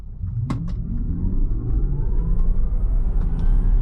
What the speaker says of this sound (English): It's a Tesla, so the first thing we got to start with is acceleration.